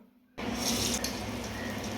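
Water in a vessel disturbed as a hand is dipped in before shaping medu vada batter, a sudden close splash and steady running-water wash starting a third of a second in and continuing loud to the end.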